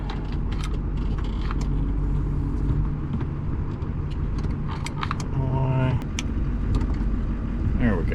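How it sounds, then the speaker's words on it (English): A pickup truck towing a badly worn trailer, with spare tires mounted and a winch on the front, gives a steady, close engine rumble while driving. Someone talks over it, and keys jangle now and then. "We are going to drive the truck and actually test it here."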